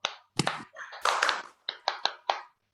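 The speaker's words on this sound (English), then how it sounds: "let's give one Edmark International clap to our dear chairman" An audience at a company pre-launch event in Kuala Lumpur claps in unison, a few sharp, close hand claps in quick rhythmic succession after a brief burst of noise.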